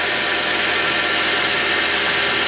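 A Vevor machine's electric motor runs near 1220 RPM after its tension pulley is reinstalled, giving a loud, steady hum with a faint vibrating rattle and no talk.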